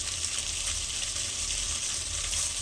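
Ginger, garlic, chilli, fennel and whole spices frying in a pan for mutton keema, a steady, soft sizzle with a bright hiss and no pauses, on its own with no talk.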